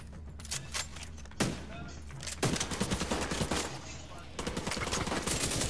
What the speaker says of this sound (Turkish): Kanka bana sıkıyorlar solda.